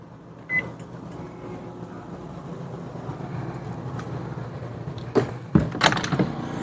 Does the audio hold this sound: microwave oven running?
yes